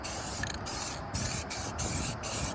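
Black spray paint hisses onto trailer wheels in short repeated bursts with brief gaps between them, close and fairly loud, painted straight over grease.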